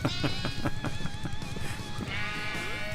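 A sheep in a vintage Minecraft-style game bleats repeatedly in quick, wavering calls, close and clear, followed by a higher drawn-out bleat.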